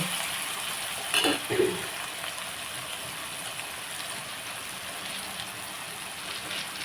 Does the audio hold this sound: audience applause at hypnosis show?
no